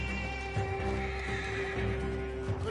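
Horses from a stagecoach whinny and neigh in the Red Dead Redemption 2 game world, with steady clip-clopping hooves and a low rumble running underneath, loud and close throughout.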